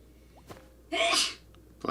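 A single sharp sneeze bursts out close to the microphone during a Minecraft livestream, preceded by a faint click and followed by quiet room noise.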